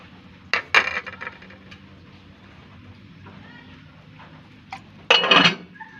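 Metal lid set down on a cooking pot of soup with two short clattering clanks, one near the start and one near the end, over a quiet kitchen background.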